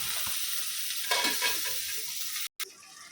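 Continuous sizzling of butter frying in a pan for tempering, with a brief burst of stirring and a momentary dropout near the end.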